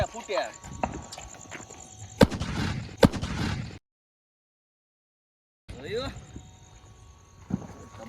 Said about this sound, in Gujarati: આપણે મોટો બોમ્બ ફોડવા જવાનો છે